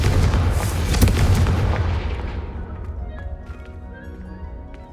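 Confringo fire spell in the Hogwarts Legacy video game bursts as one loud, deep explosive boom that rumbles and decays over a few seconds, leaving faint crackling tails.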